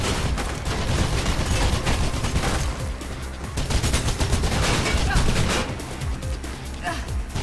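Gunfire from the video game Mirror's Edge, dense bursts of automatic shots and impacts rattling continuously at high volume for the whole stretch, with a voice reacting over the shooting.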